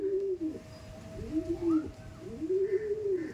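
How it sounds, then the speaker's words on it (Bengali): Pigeons at a racing-pigeon loft coo in repeated rising-and-falling calls, close and clear, with a steady low hum in the background. "এই দেখুন খুব সুন্দর পায়রা আপনার সামনে তুলে ধরেছিলাম"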